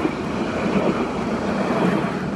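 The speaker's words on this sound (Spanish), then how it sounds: "tan pronto en horario de público, pues te puede pasar el tranvía" A tram passing along a quiet street, a loud, steady rumbling roar that holds evenly for the whole stretch with no voices over it.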